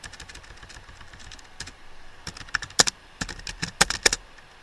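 A computer keyboard types and deletes text in a blog editor, with irregular close keystrokes that grow louder and sharper toward the end, with no voices.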